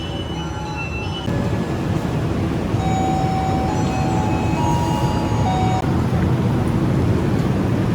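A Banyu Biru train rumbles steadily past close by at a station, a heavy continuous roar with faint high metallic squealing tones drifting over it.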